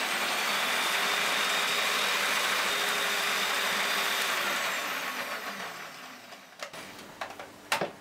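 Egg, sugar and vanilla extract batter for a Swiss jam roll whipped with an electric mixer, a loud steady motorized whir that fades after several seconds into a few clicks and knocks.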